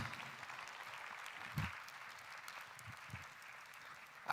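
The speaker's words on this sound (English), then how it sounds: "Please be more generous with your applause." A conference audience keeps up a faint, distant round of clapping as a guest makes a long walk up to the stage, with a few louder thumps and no speech over it.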